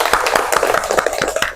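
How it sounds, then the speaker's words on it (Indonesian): A classroom of students claps for a classmate, a short burst of scattered, uneven hand claps close by with no talking. "Tepuk tangan untuk temannya."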